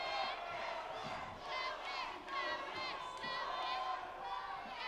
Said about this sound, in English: The sound of this crowd